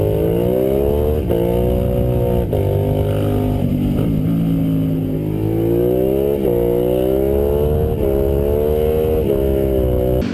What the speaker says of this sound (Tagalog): maingay na makina at aksayadong gasolina